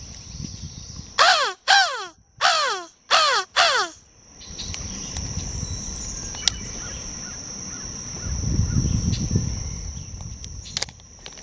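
Several loud, harsh crow caws come in quick bursts near the start while red-winged blackbirds harass the crows beside a lake, followed by quieter outdoor ambience with insects and low rumbling.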